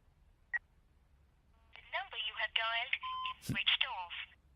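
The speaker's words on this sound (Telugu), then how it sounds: "వాడు కాల్ చేసిన నంబర్కి మళ్ళీ కాల్ చేయి." A telephone sounds in a comedy scene, giving a short tone and then a run of dialing and ringing tones, with speech and other sounds overlapping near the end.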